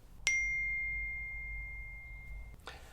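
A phone notification chimes once, a single clear ding that rings on and slowly fades over a couple of seconds in a quiet room, followed by a brief soft rustle.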